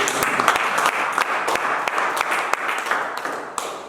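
A congregation applauds during a church service, a dense burst of many hands clapping nearby with sharp individual claps standing out, continuing steadily for a few seconds.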